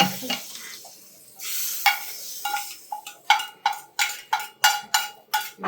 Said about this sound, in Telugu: దీన్ని ఇప్పుడు పెరుగు పచ్చడి కూడా తాలింపు పెట్టేసి